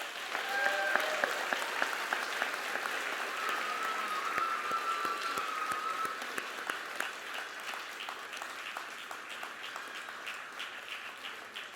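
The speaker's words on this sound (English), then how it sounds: "they deserve one more round of applause" An audience at a CPD awards ceremony claps steadily for several seconds, a dense patter of many hands that slowly thins toward the end.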